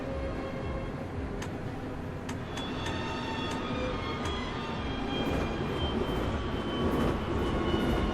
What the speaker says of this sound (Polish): przejeżdżającego pociągu po torach